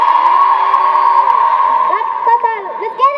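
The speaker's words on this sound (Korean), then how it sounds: "그러면은 더 많이 환호 많이 해주시면 좋겠습니다" At a concert during a university festival at Dankook University's Jukjeon Campus, a loud crowd cheers close by with a sustained roar, and sharp whoops and shrieks rise over it toward the end.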